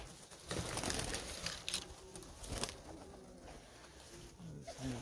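Pigeons coo and flutter nearby in a busy, noisy space, with soft rustling and brief bursts of wing flapping mixed in.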